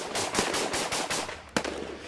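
Automatic gunfire from a street battle with snipers in Syria in 2012 rattles out in rapid, evenly spaced bursts. One sharper, louder shot cracks out near the end, close and harsh.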